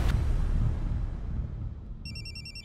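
A telephone in a crime drama scene starts ringing for an incoming call, a trilling electronic ringtone that begins just before the end and follows a dull stretch of low background noise.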